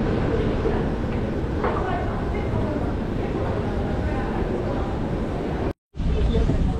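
A Prague metro train rumbles through Malostranská station, a dense, steady underground roar heard close and loud, with a short cut near the end and talk mixed in.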